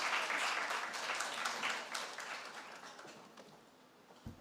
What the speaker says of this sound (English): Clap now, clap now.